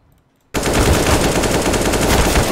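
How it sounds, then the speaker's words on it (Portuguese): Sustained automatic gunfire from a competitive online shooter match bursts in suddenly and stays loud and dense, a rapid unbroken rattle with no talk over it. "Olha o jeito que esse cara atirou, mano."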